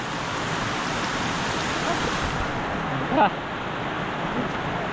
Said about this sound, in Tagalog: Ulan yan.